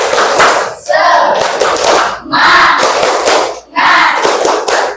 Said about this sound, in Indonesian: kita tepuk semangat dulu biar kalian selama pembelajaran itu semangat